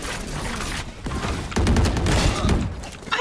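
Rapid gunfire from a video game shooter, dense bursts of shots with a short pause and a louder sustained volley near the middle, heard up close with no clear talk.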